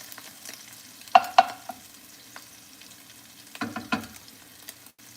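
Softened garlic cooking in a pan gives a faint steady sizzle, broken by a few sharp clinks and scrapes of stirring, close and quiet.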